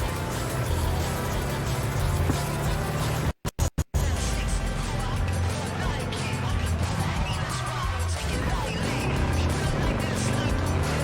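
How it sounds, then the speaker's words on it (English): A motorcycle ridden in Cyberpunk 2077 roars continuously with engine drone and road noise, broken by a brief cut-out, while a voice speaks over it. "I'm not used to driving a motorcycle."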